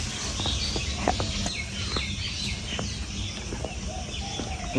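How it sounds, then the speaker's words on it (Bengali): Small chicken chicks cheep in a rural village yard near jute fields, many short high chirps scattered over a steady outdoor background. "এই যে কতগুলো মুরগির ছানা, ছোট্ট ছোট্ট।"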